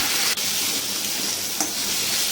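Ginger-garlic paste frying in oil in a pan for a potato, pointed gourd and soybean curry, a steady close sizzle with two brief scrapes of stirring and no talk.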